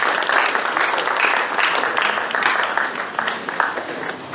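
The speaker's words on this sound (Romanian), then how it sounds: "să ne susținem reciproc cu aplauze" An audience at an awards ceremony for a district personalities contest breaks into loud, dense applause, many hands clapping together in a steady roar that eases slightly toward the end.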